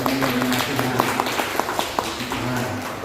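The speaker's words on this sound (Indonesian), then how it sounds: "kita beri tepukan tangan dulu untuk Tuhan" A church congregation at a Sunday service applauds steadily throughout, a dense wash of clapping from many hands filling the room.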